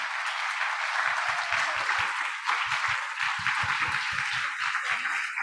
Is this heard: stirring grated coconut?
no